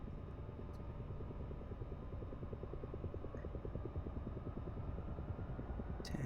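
A helicopter rotor spinning up just after engine ignition, heard from inside as a fairly quiet, steady rhythmic thumping over a continuous low engine drone.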